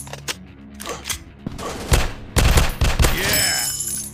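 Bursts of gunfire in an FPS robot shooting video game, scattered shots at first building into dense rapid volleys, loud and close, with a metallic ringing tail.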